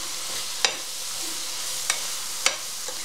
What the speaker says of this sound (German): Jetzt gebe ich hier meine Pilze mit dazu.